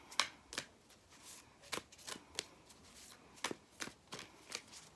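Tarot and oracle cards being shuffled by hand, with about a dozen crisp riffling bursts in an uneven rhythm, close and clear with no talking.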